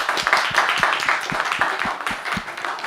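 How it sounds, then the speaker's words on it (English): Audience applause after a game round in a session on free speech limits, with some sharp individual claps standing out from the crowd, steady and fairly close over the short span. "please give them a round of applause"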